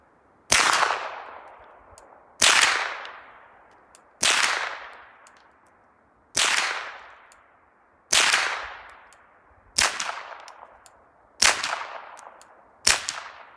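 Eight suppressed rifle shots from a Ruger GSR .308 fitted with a PWS T3 Summit suppressor, fired outdoors at a slow, even pace about two seconds apart; each crack is sharp and loud with a brief decaying tail, and no one speaks.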